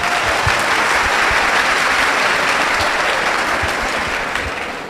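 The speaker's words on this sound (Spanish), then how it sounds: "un aplauso para el hermano" Steady, dense audience applause at a religious debate fills the room from start to finish, loud and sustained, fading slightly at the end.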